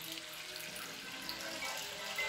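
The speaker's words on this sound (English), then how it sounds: "And some water." Faint running water in a video game, a soft, continuous splashing stream like a tap that stays low and steady throughout.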